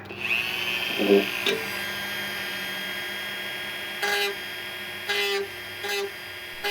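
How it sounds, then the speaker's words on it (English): A Dremel rotary tool cleans up a sharp cut edge during a 1999-2004 Jeep radio upgrade, its whine rising at first, then sustaining. Short grinding bursts follow near the end, close and moderately loud. "I need to use the Dremel is just because I'm trying to clean up the edge there, make it so it's not sharp"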